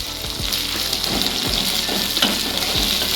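Egg chilli sizzling and frying in a pan with dried chillies, a steady close crackle and hiss with small pops and stirring scrapes throughout.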